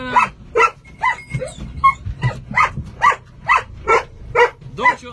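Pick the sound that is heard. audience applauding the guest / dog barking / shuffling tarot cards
dog barking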